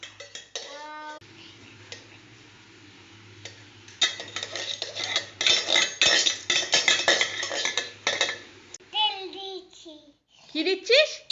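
A child plays at cooking, clinking metal pots, pans and utensils in rapid, uneven bursts while children chatter around the clatter.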